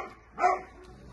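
A single short bark from an Alabai (Central Asian Shepherd dog), one mid-pitched woof at moderate volume against a quiet background.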